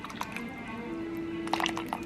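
Gravy being poured around chicken pieces in a pan at home, soft wet drips and splashes with a faint steady hum beneath, close by and moderately quiet.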